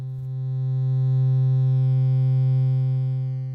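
A thin, steady pulse-wave tone from an Abstract Data ADE-10 Eurorack wave folder, pushed hard with feedback, swells in quickly and then holds at one pitch, buzzy with stacked harmonics, heard alone.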